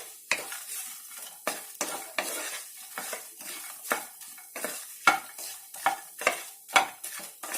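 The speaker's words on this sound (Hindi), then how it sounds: "हल्का सा फ्राई हो गया है, हल्का सा भुन गया है, निकाल लेते हैं।" Dry fruits such as raisins and makhana lightly frying in a pan, with a spoon stirring in about a dozen regular scraping strokes over a soft, steady sizzle, close and alone.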